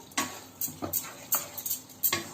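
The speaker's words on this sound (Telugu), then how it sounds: "గ్రేవ్ అంతా పట్టేటట్టు బాగా మిక్స్ చేసుకుందాం." Chicken manchurian with capsicum being stirred in sauce in a pan, with repeated close scraping strokes in an even rhythm, about five or six strokes, with no talk.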